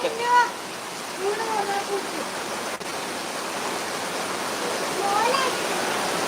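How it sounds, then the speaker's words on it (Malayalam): Heavy rain pours down in a steady, dense broadband roar, close and continuous, with a few faint bird-like chirps and voices briefly rising over it. "നല്ല അടിപൊളിയായിട്ട് മഴ പെയ്യുന്നുണ്ട് അടിപൊളി മഴ"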